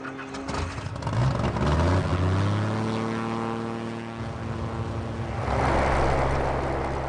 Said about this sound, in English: as our pilots start their engines